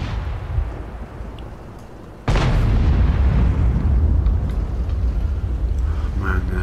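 A tank gun fires in World of Tanks with a sudden loud boom, followed by a sustained rumbling roar of battle noise.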